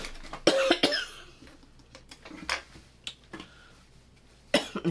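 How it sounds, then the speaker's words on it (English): A few sharp, close coughs, two in quick succession near the start, then scattered single coughs with quiet pauses between them. "Excuse my coughing."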